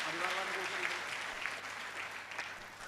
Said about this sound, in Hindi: इसलिए एक बार फिर से इनके सम्मान में तालियां बजाएं।